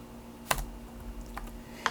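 A handful of sparse keystrokes on a computer keyboard while entering text into a spreadsheet, three distinct taps, close and fairly quiet, over low room hum.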